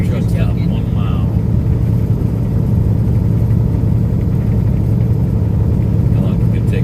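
A truck engine rumbles steadily at mid pitch, close and loud with no breaks, while people talk over it.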